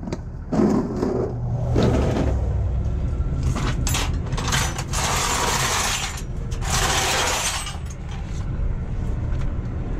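Wrenches clatter and ratchet while work is done on a 2018 Freightliner Cascadia being rigged for towing, with close, irregular metallic clicks and rattling bursts alongside hissing air from a hose.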